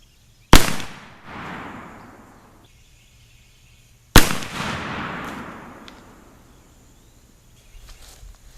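Two loud, sharp shots from a Thompson/Center Patriot pistol fired at a target 25 yards away, a few seconds apart, each followed by a rolling echo that fades out.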